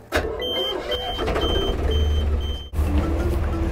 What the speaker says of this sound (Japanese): まずエンジンをかけます。